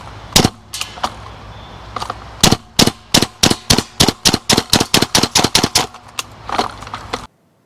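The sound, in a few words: airsoft MK12 gas blowback rifle firing rapidly, BBs striking muzzle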